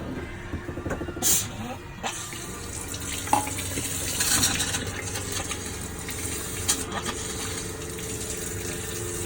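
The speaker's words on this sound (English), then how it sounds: "So that's the steady stream of water you want before you turn these on." Water runs in a steady stream from the faucet of a 2019 Thor Freedom Elite 22FE motorhome, a continuous hiss and splash close by with small clunks and faint talk.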